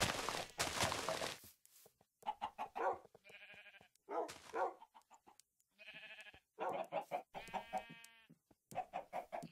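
Minecraft chickens clucking in a farmyard game scene, a run of short rhythmic clucks and squawks close by, broken by brief pauses and other loud game noises, with no talk.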